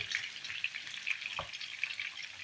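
Pork ribs frying in a pan with garlic, onion and carrot, giving a steady close sizzle and crackle with small bright pops throughout and no voices.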